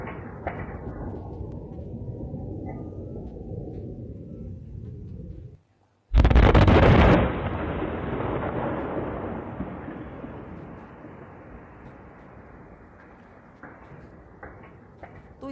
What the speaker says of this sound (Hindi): तो इतना तेज तीव्र ये धमाका था जिसकी आवाज आप सुन रहे हैं।